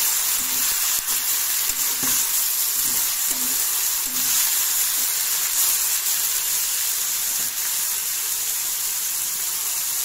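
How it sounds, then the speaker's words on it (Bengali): Spinach and jackfruit seeds fry in a pan with a steady, loud sizzling hiss throughout, broken by a few faint stirring knocks in the first half. "তো এখন সুন্দর করে ফ্রাই করে নেব"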